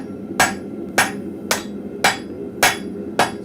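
A blacksmith's hammer strikes hot steel held in tongs at a forge, six evenly spaced ringing blows about half a second apart, close and clear with no talking.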